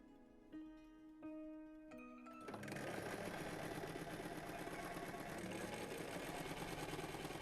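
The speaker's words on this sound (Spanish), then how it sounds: "Vamos a coser nuestros dos paneles cara sobre cara, dejando bastante margen de costura." Sewing machine stitching two fabric panels together face to face, a steady fast mechanical whirr that starts after a few soft tones and runs continuously and close for several seconds.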